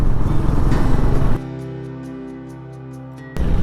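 Honda CB350 H'Ness motorcycle cruising on a highway, a loud engine and wind roar that suddenly cuts to a quieter steady tonal hum before the roar returns at the end.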